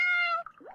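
A kitten meows in the video game Phantoms in The Camp, giving one short, bright, tonal call that drops away, then a softer rising squeak, close and clean with nothing else heard.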